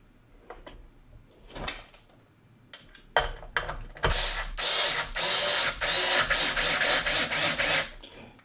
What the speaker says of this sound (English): So I'm gonna put these screws in